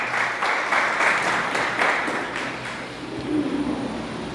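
A church congregation applauding steadily and loudly in a large room, dense continuous clapping that fades slightly toward the end, with no talking.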